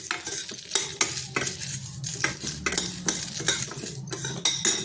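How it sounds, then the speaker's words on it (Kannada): Dried red chilies and sesame seeds dry-roast in a pan, stirred briskly with a metal spoon. Rhythmic scraping clinks repeat close and loud over a light sizzle, with no voices. "ಅದನ್ನು ಒಂದು ಸ್ವಲ್ಪ ಹುರಿಯೋಣ. ಜೊತೆಗೆ ಒಣಮೆಣಸಿನ್ಕಾಯಿನ ಹಾಕ್ಕೊಳ್ಳೋಣ."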